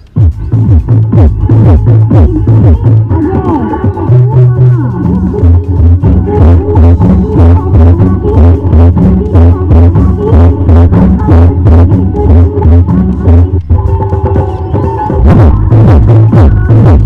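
Home theatre speaker system at full volume pumping heavy, throbbing bass notes in a steady rhythmic pattern, loud and continuous throughout with no talking.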